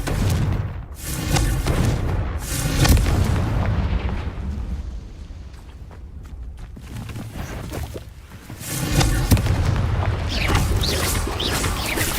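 Confringo spell blasts in Hogwarts Legacy, heavy booming explosions in loud bursts at the start and again near the end, with rumbling noise between them.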